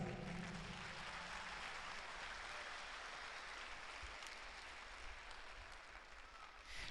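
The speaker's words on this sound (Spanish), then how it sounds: "Dale palmas a Dios." A church congregation claps hands in praise to God after a sermon, a dense, even wash of clapping that holds steady for several seconds, fairly faint and distant.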